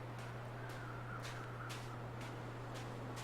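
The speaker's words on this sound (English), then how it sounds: "I hear you, birds." Crows caw repeatedly at a steady pace over a constant low hum and a background hiss, in the video game The Long Dark.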